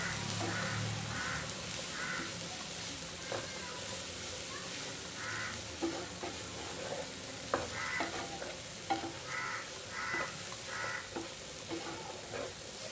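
Chicken tikka samosa filling of vegetables and spices stirred in a pan: soft sizzling with scraping spoon strokes and occasional knocks against the pan over about thirteen seconds.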